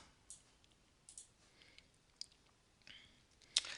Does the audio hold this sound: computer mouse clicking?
yes